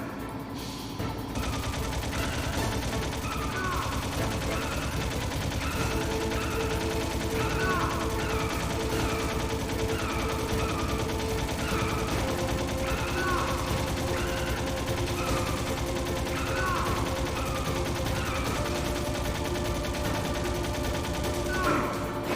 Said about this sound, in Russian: Да я же стреляю в тебя, чел!